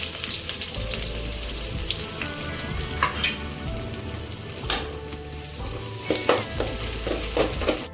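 Chopped onion fries in oil with cumin and red chillies for a spinach thokku, a steady close sizzle broken by a few sharp clinks and scrapes of stirring.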